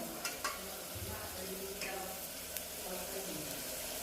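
Tomatoes fry in a pan for a spiced Maharashtrian rice dish, a quiet, steady sizzle with a few light stirring clicks.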